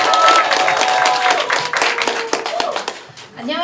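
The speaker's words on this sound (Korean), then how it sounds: "박수 부탁드립니다." Audience clapping at the opening of a Progressive Party candidate's campaign office in Jungnang-gu, Seoul, a loud burst that fades toward the end, with voices mixed in and a voice starting to speak as it dies down.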